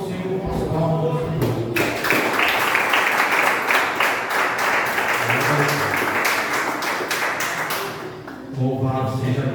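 Church congregation claps in praise during a worship service, with the applause swelling to a dense, loud wash after a couple of seconds and fading out near the end while music or voices play around it.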